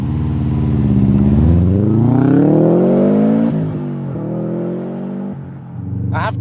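A turbocharged Subaru Impreza 22B rally car revs up loudly at close range, its engine note climbing steadily, then dropping back and settling into a firm idle.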